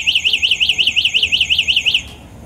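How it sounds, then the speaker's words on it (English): A Wing Freedom Fatty electric fat bike's anti-theft alarm wails in a loud, rapid warbling siren, about a dozen quick rising-falling cycles, then cuts off abruptly, with no talking. "this alarm system for the bike is awesome"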